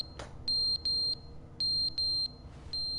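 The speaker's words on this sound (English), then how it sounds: "There's a fire alarm in here, though." A smoke alarm with dead batteries chirps in short high electronic beeps, several in a row in pairs, loud and close in an otherwise quiet room.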